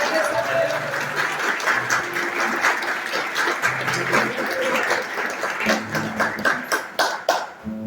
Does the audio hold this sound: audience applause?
yes